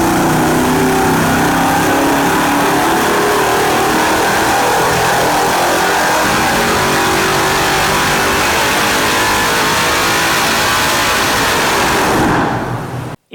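A 5.3 liter truck V8 fitted with a FAST LSXR intake and a 102mm throttle body roars loudly on a dyno, holding a sustained high-rev wail for several seconds before cutting off abruptly.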